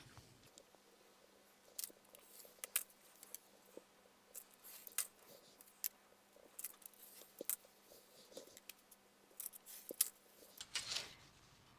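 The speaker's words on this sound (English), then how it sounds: "now I'm just going to trim it, cut these threads off, trim it out" Small scissors snipping loose sewing threads from a stitched paper pocket, a quiet close-up series of crisp, irregular cuts spaced about a second apart over a faint steady hum, with no talking.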